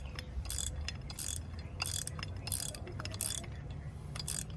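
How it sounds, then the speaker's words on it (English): A ratchet on a Canada Post Crown lockbox install clicks freely with no resistance, giving a quick run of light metallic clicks in small bursts over a steady low background hum. No talking. "Just doesn't like to ratchet when it has no resistance."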